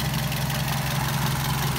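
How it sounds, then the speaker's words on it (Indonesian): A Toyota Vios car engine idles steadily with a low, constant rumble and a faint rattle, continuous and close throughout. "Ini suara mesinnya, ini kan mic,"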